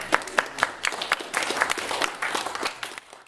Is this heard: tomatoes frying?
no